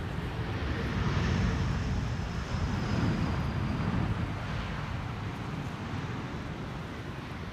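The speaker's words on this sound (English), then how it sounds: "Here we have an E2 Embraer 195 arriving from Aberdeen in Scotland" A KLM Embraer E2 195 airliner arriving at Amsterdam Schiphol makes a broad, steady roar that swells slightly and then holds, with wind noise and no talking.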